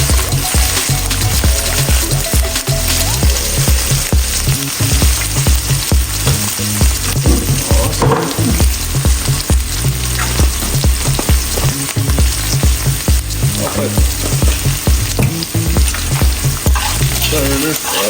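Chicken being turned into Jamaican-style brown stewed chicken sizzles and fries in a pot while it is stirred, a loud, continuous crackle with repeated scraping strokes throughout.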